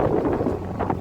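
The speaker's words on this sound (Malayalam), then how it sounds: "നമ്മുടെ വണ്ടി പുറത്തേക്ക് ഇറങ്ങിയതും കാറ്റ് തുടങ്ങി" Wind outside at Heysham beach buffets a microphone, making a close, low, rumbling gust that blows steadily for about a second.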